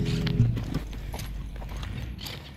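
A reined horse's hooves clip-clop in a steady rhythm close by as it walks alongside its rider in Córdoba, Argentina, with a brief voice at the start.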